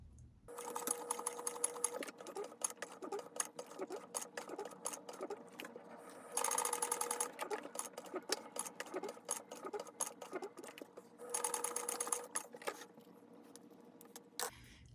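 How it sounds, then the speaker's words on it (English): A sewing machine top stitching along the bottom edge of a bag flap: rapid, even mechanical chattering in several runs with short pauses between, close and fairly quiet, with no talking. "We are going to top stitch along this bottom edge."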